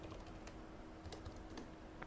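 Someone types a command on a computer keyboard at a Proxmox server node, a quick run of faint, close key clicks in an uneven rhythm, with no talking.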